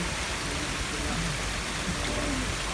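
Cold spring water from a mountain source in Malico, Pangasinan, streams down from above through hoses, making a steady, close, dense rushing hiss that holds unbroken for the whole stretch.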